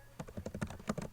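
Someone types at a computer keyboard, a rapid run of soft, evenly spaced key clicks close by, with no talking.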